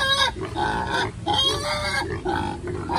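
A pig grunts repeatedly at close range while being fed, giving rough, overlapping grunts with a few higher squeals that continue steadily throughout.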